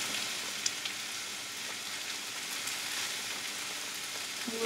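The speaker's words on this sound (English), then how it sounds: "I've got the curry cooking really lovely there" Tandoori curry cooking in a pan, a continuous bright sizzle and crackle at moderate, even loudness, with a few sharper pops.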